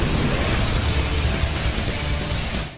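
Anime clash of Saitama's Serious Punch against Boros' Collapsing Star Roaring Cannon, rendered as a continuous roaring blast, loud and dense with deep rumble, sustained throughout before easing slightly at the end.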